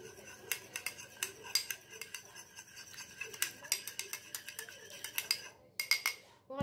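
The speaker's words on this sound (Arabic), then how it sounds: "غندير عليها واحد معلقه ديال الحليب بحال ما تشكل، وغادي نخلط" A spoon rapidly whisks egg yolk with a spoonful of milk in a small bowl, producing a steady stream of close, bright metallic clinks and taps against the sides, with a brief pause near the end.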